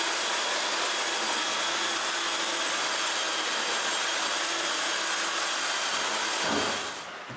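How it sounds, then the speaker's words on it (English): Steady, loud broadband whirring hiss of a power sander working plywood smooth for a water cabinet build, continuous and even throughout before tapering off at the very end. "When I'm done, I sand the plywood smooth."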